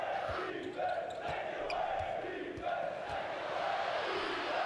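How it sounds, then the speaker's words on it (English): A Houston Rockets arena crowd chants in rhythmic rising and falling waves during a basketball game against Atlanta, with ball bounces thudding underneath. "As the great Houston Rocket chant bursts out the crowd once again."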